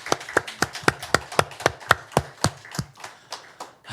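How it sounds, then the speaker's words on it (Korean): A small church congregation claps in thanks to the Lord during a Sunday service, about twenty sharp, distinct claps in a steady rhythm that grow slightly softer and looser toward the end, with no talk over them. "주님께 우리가 감사의 박수라도 올리면 좋겠습니다"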